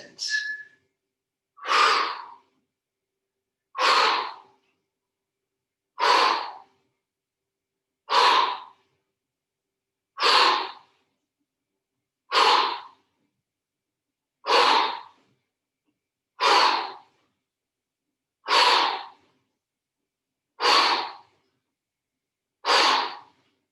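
A person breathing out forcefully during a yoga exercise for runners, twelve evenly spaced, close and loud exhalations about every two seconds, each a sharp breathy burst with silence in between.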